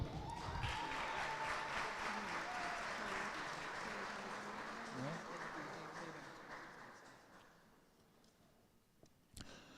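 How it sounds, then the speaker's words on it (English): An audience at a university postgraduate reception applauds steadily for several seconds, a dense patter of clapping in a room that gradually thins and fades away. "Give him a round of applause, please."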